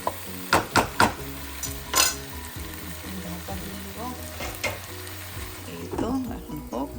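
Spring onion stalks are stirred in a hot pan, giving a soft sizzle with several sharp utensil scrapes and clinks near the start, and faint speech over it.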